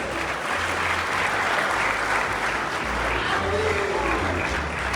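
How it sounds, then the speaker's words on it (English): Sustained audience applause at an official project unveiling ceremony, a dense steady wash of clapping that fills the whole stretch at even loudness. "Ladies and gentlemen, a round of applause."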